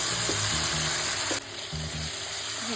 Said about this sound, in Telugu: ఈ ఆకుని ఒక 1 మినిట్ ఆయిల్లో ఫ్రై చేసుకోవాలండి.